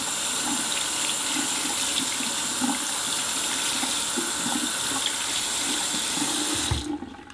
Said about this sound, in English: I just keep the water running and I squeeze it under the water like this